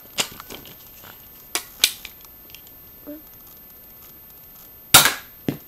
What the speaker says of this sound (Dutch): En we zullen de eerste schieten.